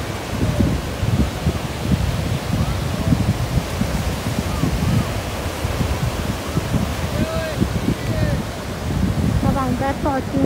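Sea waves wash onto the beach at Port Said, a steady broad roar of surf with wind buffeting the microphone and faint voices in the background.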